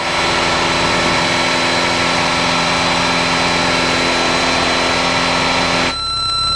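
A light aircraft engine drones steadily in flight, a loud and constant hum with a strong fixed tone and broad noise that stays unbroken until it dips briefly at the very end.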